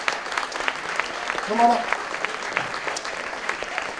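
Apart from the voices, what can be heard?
audience applause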